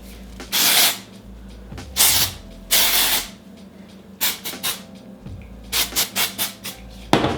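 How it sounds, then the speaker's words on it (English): Bedhead Masterpiece hairspray sprayed onto hair in a series of close, loud hissing bursts, a few long sprays followed by shorter quick pumps, with no voices. "spray my hair one more time"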